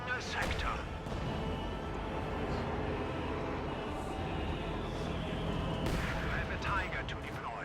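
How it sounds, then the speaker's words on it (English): Tank and heavy mortar fire in a World War II strategy game battle, with a Tiger and StuG shooting along a front line; repeated deep booms and blasts sound at a distance over a continuous rumbling battlefield din, while a voice talks throughout. "Tiger and Stug taking shots at these guards on the front lines"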